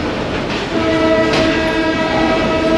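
A Karachi Circular Railway local train at City Station rumbles loudly and close, with a sustained horn blast over the continuous rolling clatter of the carriages.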